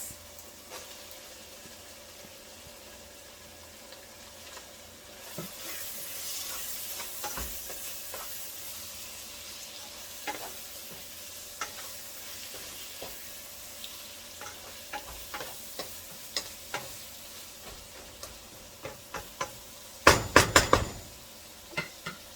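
Onions frying in a pan for keema samosa filling: a low, continuous sizzle that grows after a few seconds, dotted with scattered ticks and crackles and a louder clatter of cookware near the end.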